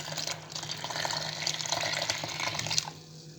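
Milk being poured into a bowl of dough ingredients of oil, sesame, salt and sugar for rustic milk bread rolls, a short close liquid pour gurgling steadily for about three seconds, with no voices.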